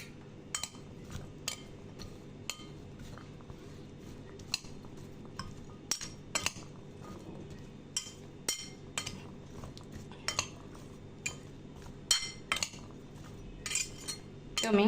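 Spoon clinking repeatedly against a bowl while chickpea salad is tossed with lemon juice and mustard oil, a steady series of light metallic taps and scrapes, close and fairly quiet with no talking.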